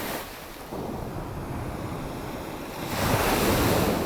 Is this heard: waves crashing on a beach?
yes